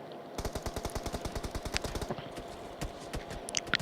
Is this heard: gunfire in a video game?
yes